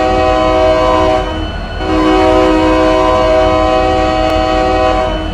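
A sustained, loud commuter train horn in the game RO Scale Sandbox, with steady harmonic tones blaring almost continuously, dipping briefly before resuming, over rumbling engine noise.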